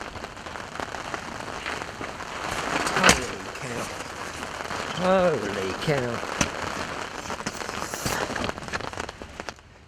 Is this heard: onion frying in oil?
no